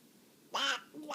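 A child imitates a duck with two short quacking calls, a longer one followed by a briefer one, close up in a quiet room.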